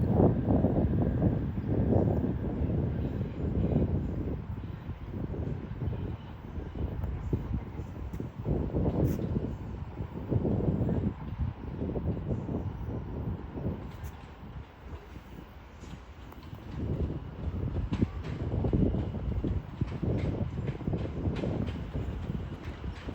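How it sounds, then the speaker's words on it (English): A train from London Euston approaches Watford Junction on the West Coast Main Line, a deep distant rumble that swells and fades in waves beneath gusty wind noise. "in the far distance will be a terminating line service from London Euston"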